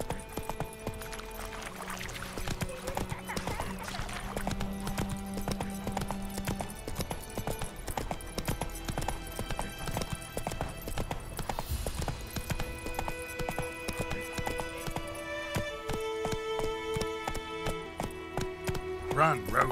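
Roach the horse galloping in The Witcher 3: Wild Hunt, a rapid steady clip-clop of hooves continuing throughout under game music and a voice speaking.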